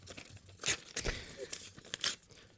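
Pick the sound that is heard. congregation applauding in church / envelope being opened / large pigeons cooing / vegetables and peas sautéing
envelope being opened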